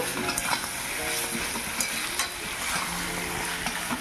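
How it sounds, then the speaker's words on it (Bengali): Pointed gourd cooking with poppy seed paste in a frying pan, stirred steadily so a continuous sizzle and fry runs throughout with soft scraping and clinks of the spatula against the pan, close and alone. "বেটে রাখা পোস্ত এর মধ্যে দিয়ে দেব এবারে নেড়ে চেড়ে নেব"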